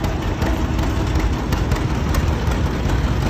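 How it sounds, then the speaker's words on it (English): A 1943 John Deere BW wide-front tractor engine runs steadily, a continuous low rumbling drone heard close and loud without any talk. "And then a 1943 BW John Deere owned by Alan Wibbles from Blinden."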